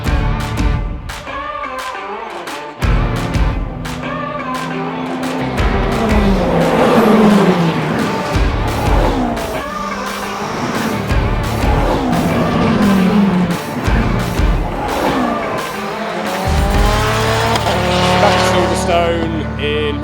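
A Praga race car laps Silverstone during a Britcar Endurance round, its engine revving hard and loud through repeated upshifts and downshifts, with occasional tire squeal, close and continuous throughout.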